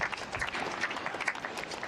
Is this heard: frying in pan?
no